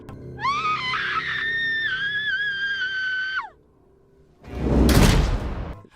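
A horror-film scream ending a voicemail: a long, shrill, wavering shriek of about three seconds, followed after a short gap by a loud, noisy burst like a slam or whoosh.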